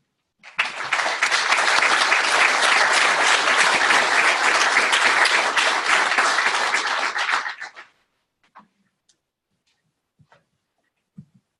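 An audience welcoming a keynote speaker at a conference with loud, steady applause that swells quickly and holds for about seven seconds before cutting off, followed by a few faint isolated clicks.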